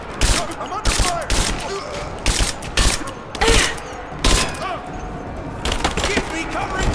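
Bursts of gunfire from a Rise of the Tomb Raider firefight: repeated loud volleys of rapid shots in uneven clusters, with brief gaps between them and a busy background of combat noise.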